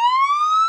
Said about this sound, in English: And wait for it. A siren.